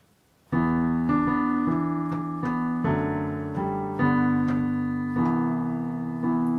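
A piano plays a steady introduction of sustained chords, changing every second or so, clear and close with no voices.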